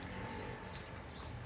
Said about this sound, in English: Birds are chirping everywhere.